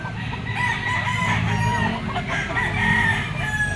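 Several roosters crow over one another at a busy Wednesday gamefowl market in an open-air grotto, with clucking fowl and crowd murmur filling the background throughout.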